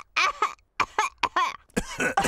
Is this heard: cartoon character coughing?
yes